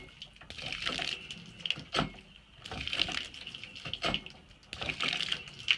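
Water gushes and splashes in uneven surges from a hand-operated deep well pump, pausing briefly between strokes, fairly quiet and close.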